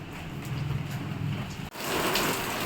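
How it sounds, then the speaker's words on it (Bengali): Heavy, steady downpour on a monsoon morning, a dense continuous hiss of rain falling close by and loud throughout, with a brief dip before it resumes just as strong. "এই যে মুসল আর বৃষ্টি হচ্ছে এখন"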